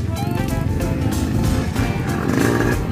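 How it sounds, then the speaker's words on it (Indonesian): A motocross motorcycle engine roars steadily in a pine forest in North Bandung, a loud throaty exhaust drone that rises and falls slightly, nearby and continuous. "Coba dengar itu suara raungan knalpotnya"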